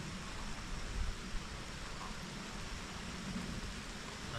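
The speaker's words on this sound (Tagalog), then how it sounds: "nakatudo na po ang ulan" Steady rain falling outdoors at a mini lake, a soft continuous hiss with low rumble underneath, fairly quiet and even throughout with no voices.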